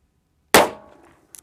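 A single loud .357 Magnum gunshot fired close by, loaded with H110 or 300-MP powder, with a sharp crack that decays over half a second, followed by a faint metallic clink.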